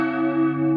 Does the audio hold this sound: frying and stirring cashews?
no